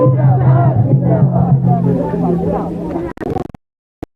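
A large crowd gathers at a political rally in Badri, Bishunpur assembly area, its loud massed cheering and chanting voices carrying for about three seconds before breaking off into a few short bursts and then silence.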